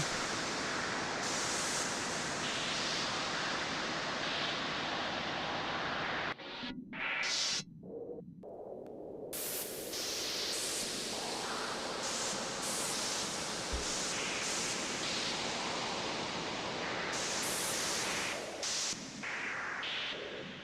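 A modular synth sends noise through an internal reverb effect module, making a loud, dense, continuous hiss that drops out in several abrupt gated gaps midway and then swells back into a washy sustained roar.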